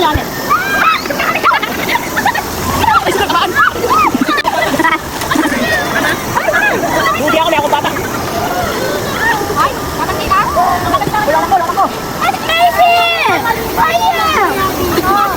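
Group of people splashing and sloshing water at one another in a swimming spot, with continuous splashes under lively crowd chatter and shouting throughout.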